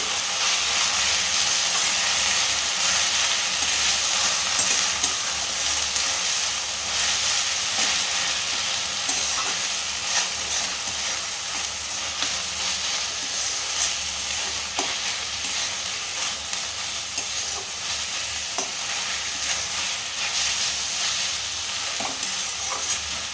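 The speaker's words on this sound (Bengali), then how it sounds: "এখানে যে আদা লঙ্কা রসুনের পেস্টটা দু চামচের মতো আছে দিয়ে দিলাম এটা একটু ভালোভাবে ভেজে দিতে হবে" A ginger, chili and garlic paste fries in a pan for Bengali chicken kosha, giving a steady, loud sizzle with continuous stirring and scraping throughout.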